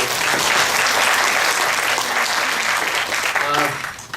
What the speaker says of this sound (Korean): 박수 한번 쳐주시려면 힘차게 한번 박수